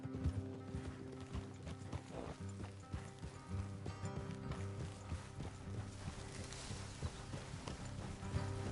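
Horses clip-clop along in the Red Dead Redemption video game, a soft, continuous patter of hooves beneath a low, layered music score, with no voices.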